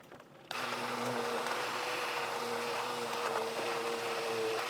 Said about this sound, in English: we're going to use the immersion blender to start blending this up a bit